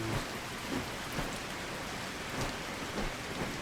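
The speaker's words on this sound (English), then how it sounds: "so it started raining" Steady rain hisses evenly in a video game, a soft unbroken wash of drops with no voices.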